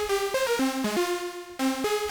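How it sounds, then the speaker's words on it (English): A detuned saw lead from an Elektron Syntakt analog synth plays a clear stepping melody of sustained notes, alone and steady, without speech. "Just go for a classic kind of saw detuned vibe."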